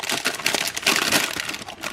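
Crinkly plastic packaging around an Aldi Bremer beef and lamb gyro sandwich is pulled open up close, a run of loud crackling, rustling crinkles in uneven bursts.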